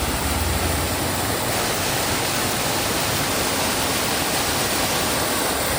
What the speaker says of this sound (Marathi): आणि इथे देखील एक छोटासा धबधबा आहे बघा